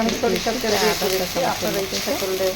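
Garlic and chili powder fry in oil in a pan, a close sizzle under a person speaking throughout.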